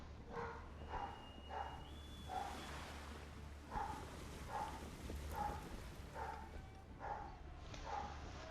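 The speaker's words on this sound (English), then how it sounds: "Let me go see what Ray's barking at." In Assassin's Creed 3, a dog named Ray barks in a steady series of about a dozen evenly spaced woofs, moderately near, over a constant low wintry ambience with a faint steady hum.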